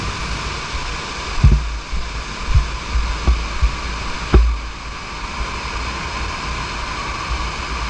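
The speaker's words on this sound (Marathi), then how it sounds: "पाण्याचा आवाज अधिक जास्त येत होता" Devkund waterfall heard close by on a trek: a steady, full rushing roar of falling water that fills the whole clip, with a few brief low thumps and no voices.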